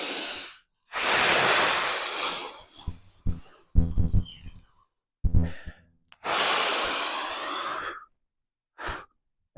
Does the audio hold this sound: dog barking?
no